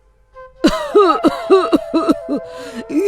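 A run of harsh, repeated coughs in quick succession, loud and close, with strained voiced bursts between them.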